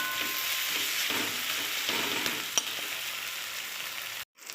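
Ginger, garlic and chilli masala frying in plenty of oil for a sardine curry, a steady close sizzle with occasional soft stirring scrapes, cutting off abruptly near the end.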